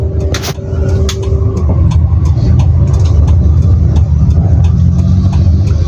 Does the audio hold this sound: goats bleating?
no